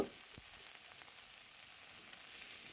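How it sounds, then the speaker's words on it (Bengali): Onions and spring onions frying in oil in a wok, a steady soft sizzle with a faint stirring scrape near the start, heard alone without voices. "তেল দিয়ে তার মধ্যে পেঁয়াজ আর পেঁয়াজের কলি দিয়ে নিলাম, দিয়ে এখন ভেজে নিব"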